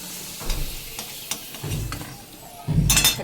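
Potatoes and eggplant frying in hot oil, a steady sizzle with a few louder bursts and stirring, swelling sharply near the end as the pan crackles harder.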